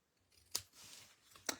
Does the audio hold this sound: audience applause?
no